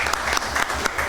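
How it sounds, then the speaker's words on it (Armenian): Brief burst of clapping from members at a Sisian community council session in Armenia, steady and fairly close, many hands together. "սա նաև ծափարության արժանի էր"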